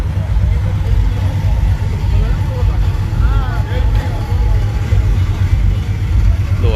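A Honda Civic Type R GSR hatchback idles at a random car meet, its steady low engine rumble running continuously while people talk nearby.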